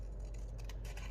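Scissors snipping down a paper Christmas tag, a few faint, quick cuts over a low steady background hum, lasting about a second.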